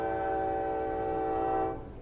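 In a video game, a train horn blares as one loud, sustained harmonic blast that cuts off abruptly near the end, over low background rumble.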